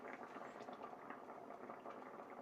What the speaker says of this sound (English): Ooh, this rice is boiling kind of quick.